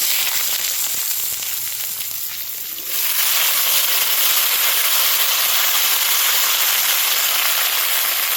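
Mustard paste fries in a pan with turmeric and salt, a loud steady sizzle that jumps to a harsher, brighter hiss about three seconds in and holds.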